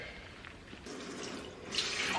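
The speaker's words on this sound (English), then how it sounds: "I'm gonna have to add water as I go because this is clearly not enough" Tap water running steadily into a container, a continuous splashing gush that grows slightly louder toward the end, with no talking.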